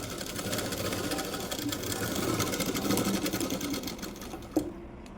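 A sewing machine runs steadily, stitching decorative front dots onto a blouse, a fast close mechanical whir that stops near the end.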